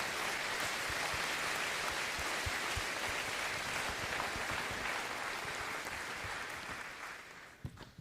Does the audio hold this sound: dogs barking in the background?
no